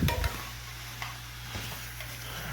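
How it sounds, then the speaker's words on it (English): Beef bourguignon simmering in a pot gives a low steady bubbling hum, with a spoon stirring and scraping through it in a few soft clanks near the start and later; no one speaks. "you see, coming to nice simmer. And you keep on turning this bad boy here"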